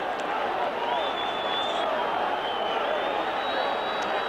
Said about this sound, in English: the crowd here in Buenos Aires, as you can hear, getting excited